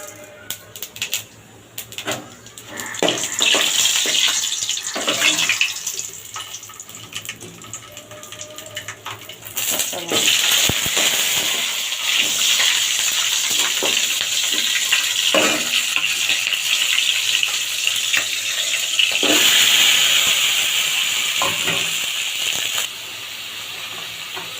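Panch phoron, the Bengali five-spice mix, hits hot oil with reddened chillies already in the pan, setting off a loud, steady sizzle and crackle that starts after a few scattered clinks and holds for about twenty seconds.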